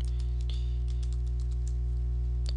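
Quick, light keystrokes on a computer keyboard, a short run of crisp taps over a steady electrical hum.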